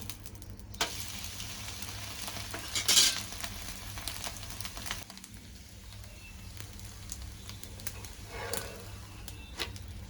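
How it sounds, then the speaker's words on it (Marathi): A fasting-style dosa (upwas or farali dosa) sizzles in oil or ghee on a pan after being flipped, giving a soft, steady frying hiss with a few brief scraping touches, fairly faint throughout. "डोसा आता आपण उलटून घेऊया"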